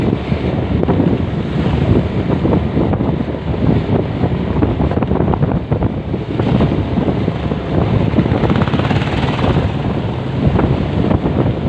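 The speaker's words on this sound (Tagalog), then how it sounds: "Lakas ng hangin." Strong wind buffets the microphone on a shoreline, with steady loud rushing noise and the wash of surf underneath throughout, no voices.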